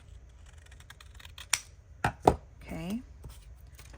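A few sharp snips of scissors trim fabric for a handmade zipper tag. Several crisp cuts and a short rustle are heard close up against a quiet room, and one brief spoken word comes before them.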